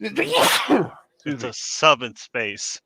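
A single sharp sneeze from a person with irritated sinuses bursts out close to the mic, followed by a short exchange of speech.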